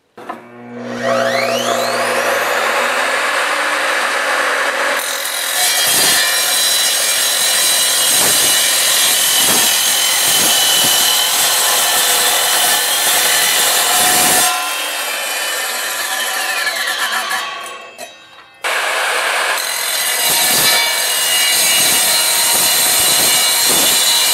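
A 10-inch multi-material sliding miter saw with a TCT blade cuts through metal square tubing, a loud screaming grind with motor whine, running in long bursts with brief spin-down gaps between cuts and no talking.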